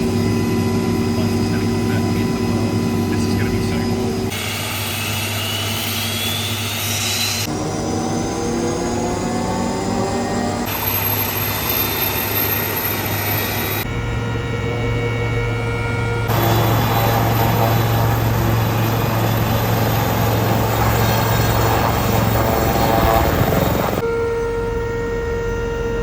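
A Westland Lynx helicopter, an ex-military aircraft, runs its jet engines for takeoff, producing a loud continuous turbine whine with shifting high-pitched tones and a heavy low drone throughout.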